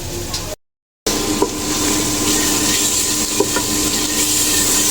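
Spices being sautéed in a pan while tehari is cooked at home make a loud, continuous sizzle with scraping stir strokes. A brief dropout of silence comes near the start.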